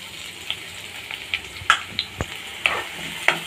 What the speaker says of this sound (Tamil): நல்லா வதக்கிக்கலாம், நல்லா ரோஸ்ட் ஆகட்டும், அப்போதான் நல்லாயிருக்கும்.